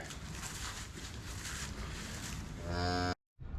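Cows mooing on a farm, several overlapping low calls from livestock amid wind noise, ending in one long, loud nearby moo that cuts off abruptly before the wind resumes.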